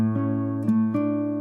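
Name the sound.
A major chord played on guitar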